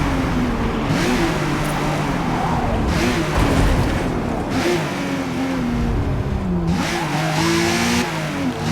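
Race car in Forza Motorsport braking hard from about 160 mph into the first corner off the banking, engine note sweeping and dropping steadily with tyre noise, loud and continuous throughout.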